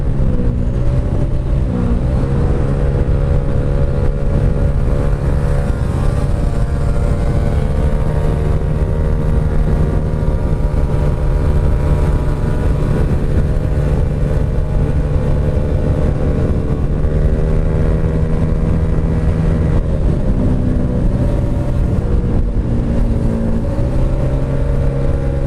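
A Honda Vario scooter engine runs continuously while riding on the road toward Tegal, with a loud, steady droning hum that shifts slightly in pitch with throttle changes, plus constant wind and road noise and no speech.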